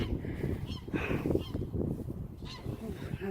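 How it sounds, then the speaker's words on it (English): Geese honk repeatedly in a noisy chorus, overlapping calls from a flock nearby. "the geese are making a racket"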